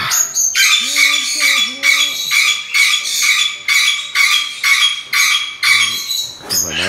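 A parakeet at a parakeet rescue squawks in loud, rapid harsh bursts, close and nearly continuous, with a few softer chirps underneath.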